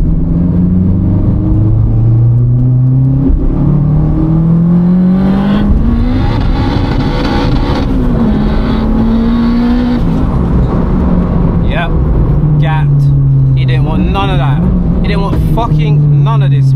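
A 500 bhp big-turbo Honda Civic Type R accelerating hard from inside the cabin, its loud engine rising and dropping through gear changes with turbo whoosh and flutter, while someone talks excitedly over it.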